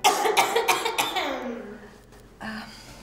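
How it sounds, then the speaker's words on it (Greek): Someone in a Greek TV drama scene coughs in a quick run of rough, throaty bursts, then pauses and coughs once more, close and clear. "Μας βήχουν."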